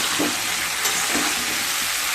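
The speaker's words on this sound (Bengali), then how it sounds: "ফুলকপিগুলোকেও খুব ভালোভাবে ভেজে নেব।" Cauliflower florets fry in hot oil for a vegetarian cauliflower paneer dalna, giving a steady, close, bubbling sizzle with light crackles throughout.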